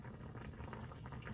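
Meat boils in water on high heat, a steady faint bubbling and simmering texture with no talk.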